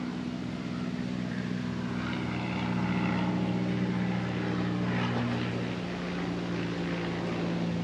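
A propeller airplane drones steadily overhead, its engine hum loud and continuous throughout with a slight swell midway, heard outdoors near a spot where logs are milled into boards.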